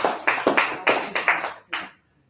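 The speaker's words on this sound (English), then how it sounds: "Let's give an applause for Matt Meyer." A handful of distinct, sharp claps ring out close by, about eight in uneven rhythm, the last one tailing off into quiet; a small audience applauding Matt Meyer.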